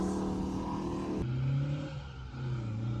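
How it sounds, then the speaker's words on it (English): A 50-year-old MGB sports car racing on track, its engine screaming at high revs and shifting pitch, heard from inside the cabin with a steady droning tone. "just listen to that engine scream, tires chirp just a little bit"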